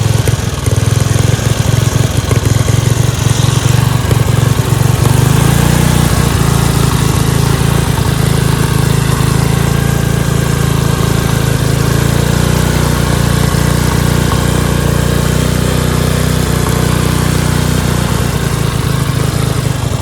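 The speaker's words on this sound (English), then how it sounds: "I feel like it can really rev high." Dayton 11HP hauler lawn tractor, a mud-racing mower with seized brake calipers, its engine running hard: a loud, steady, buzzing drone that holds nearly constant for twenty seconds with only a slight shift in pitch.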